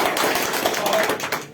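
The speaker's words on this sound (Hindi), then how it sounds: "उनके लिए तालियां" Audience applause for a speaker at an event honouring an achiever of an overseas trip incentive: a short, dense wash of clapping that runs through the whole moment with voices mixed in.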